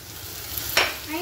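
Onions stirred in a pan of hot oil while making a sardine rice dish, a brief close sizzle with one sharp scrape of the spoon near the end.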